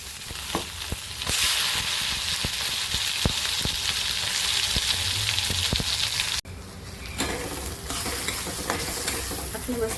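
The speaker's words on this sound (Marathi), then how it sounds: "आपला मसाला भाजलाय बघा" Masala of chutney and red chilli powder roasts and sizzles in a kadhai on the gas, a loud steady crackle broken by scraping stirs, briefly cut off and then resuming, with no talk.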